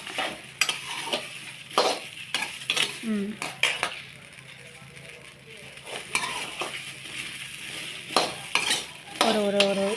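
Sliced okra fries and gets stirred in a pan for a Tamil okra kuzhambu, with repeated sharp scrapes and clinks of a metal spoon over a soft, constant sizzle.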